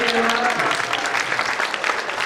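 Applause from the audience at a political event, a brief, steady wash of clapping lasting a couple of seconds, fairly loud and without speech.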